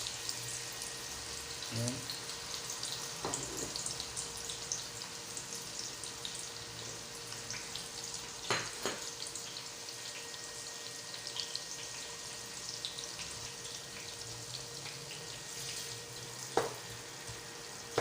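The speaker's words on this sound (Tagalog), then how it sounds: "ilalagay na rin natin itong sibuyas at bawang" Onion and garlic hit hot cooking oil in a pan, giving a steady soft sizzle with occasional stirring clicks, while a voice briefly speaks.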